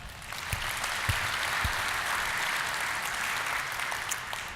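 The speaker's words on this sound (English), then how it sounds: "Let's give another round of applause for Vern Dosh." Members at an NRECA International check presentation applaud Vern Dosh. A continuous wash of clapping holds steady for the whole stretch, with a few sharper claps standing out early on.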